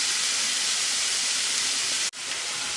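Onion sautés in a pan with a loud, even, hissing sizzle that runs almost the whole time and dips briefly just before the end.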